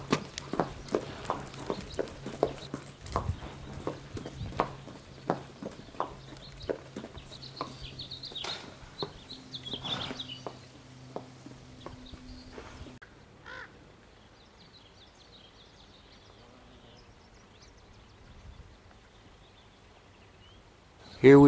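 A horse with rain scald is walked on a hard surface, giving a steady series of clear hoofbeats for about thirteen seconds, with crows cawing nearby and a person talking.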